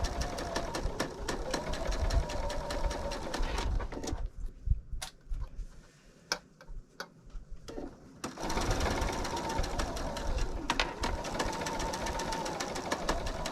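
Sewing machine stitching stretchy fleece for a blanket: a rapid mechanical whir with fast needle clatter, loud and close, pausing for a few seconds midway before running steadily again.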